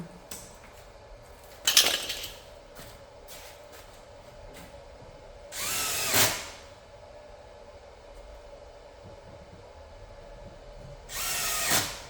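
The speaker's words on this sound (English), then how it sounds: "we're going to finish putting these screws into the side and bottom" A power drill drives screws into the frame of a sliding glass enclosure, with two sustained whirring bursts, a sharp clank early on, and scattered taps and handling noises between them.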